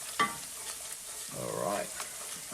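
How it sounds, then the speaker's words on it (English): Flour is stirred into very hot oil in a pan for vegan nachos, a close hissing fry that swells into a bubbling sizzle midway, with a sharp tap near the start and no talk. "We're going to add this flour. Stir that in. Okay, that oil's actually real hot."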